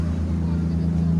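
The engine of the Karnaphuli passenger ship drones low and steady mid-voyage in the Bay of Bengal toward Saint Martin, a brief continuous rumble with faint voices.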